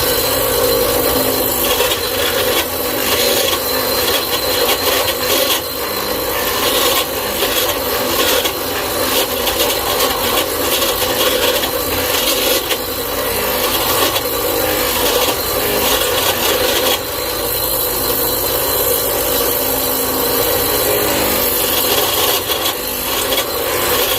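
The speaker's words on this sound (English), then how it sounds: "my drill press kind of rattles because it's on its last leg." An aging drill press bores into wood with a 3/4 inch Forstner bit, giving a steady close-up scraping, rasping cut with a loose rattle running underneath for a long unbroken stretch, no voices.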